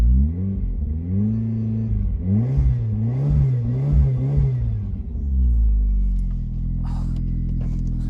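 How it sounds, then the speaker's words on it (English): A 1990s Lotus Elan sports car engine revving in a series of rising and falling blips close by, then settling into a steady low idle rumble. "Lovely 90s sports car drone."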